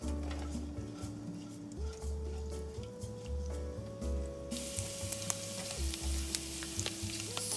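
Ginger and chili sizzling in about a tablespoon and a half of hot oil in a pan, a steady crackling fry with occasional utensil stirs and clinks, a sustained tone humming underneath.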